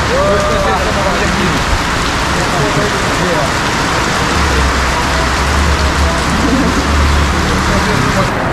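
Heavy rain pours steadily and loudly on a local market in Africa, a dense continuous hiss on surfaces, with a low rumble of traffic and occasional muffled voices beneath.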